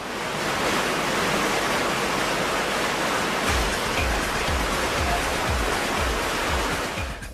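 Five 150-horsepower turbine pumps filling huge wave machine chambers with water: a loud, broad, steady roar of rushing water, with a rhythmic low pulsing thump entering partway through and continuing to the end.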